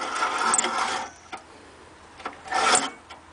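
An old 1967 Sears yard tiller engine turned over by hand, two short rough cranking bursts separated by a quiet gap, close and fairly loud.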